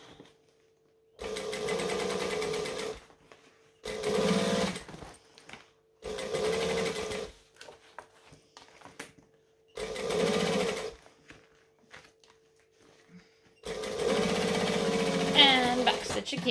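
A sewing machine top stitches a jacket in five separate bursts of fast, steady whirring, with quiet pauses between runs and a faint low hum underneath.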